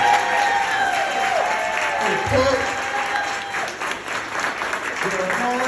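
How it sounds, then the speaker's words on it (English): An audience breaks into sustained applause with some cheering at a community nonprofit campaign kickoff, clapping steadily throughout while a voice briefly talks over it. "Everyone, give a round of applause for Nikki Gilbert."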